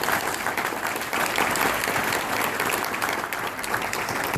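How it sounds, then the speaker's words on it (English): An audience at an MX5 owners' meet at HMC gives Chris Barrie a dense, sustained round of applause, loud and even throughout, from a sizeable crowd. "Ladies and gents, can you please give Chris a big round of applause?"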